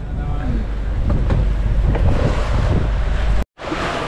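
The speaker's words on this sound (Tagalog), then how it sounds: "Nag-uumpisa na ulit ang alon." Sea waves wash and churn around a boat on open water, mixed with heavy wind rumble, loud and continuous apart from a brief dropout near the end.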